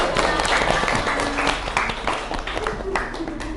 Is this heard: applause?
yes